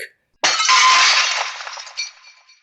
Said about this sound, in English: the giant crab-like creature crashes through the glass of the observation deck